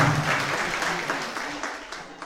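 An audience claps at a Marathi public harikirtan event in Trimbakeshwar, a steady wash of applause with some voices mixed in, fading slightly toward the end.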